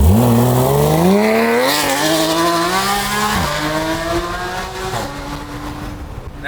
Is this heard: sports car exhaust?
yes